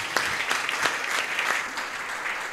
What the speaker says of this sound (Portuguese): Vamos aplaudir a Deus bem forte.